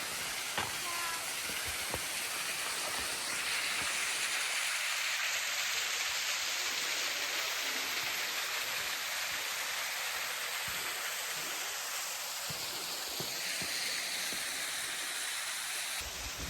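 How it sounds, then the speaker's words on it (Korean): A steady roar of rushing water from Ungye Falls on Gamaksan mountain in Paju, South Korea, heard from nearby, filling the whole clip with a constant hiss and low rumble. "운계 폭포라는데 너무 멋지겠다 물소리 들리네"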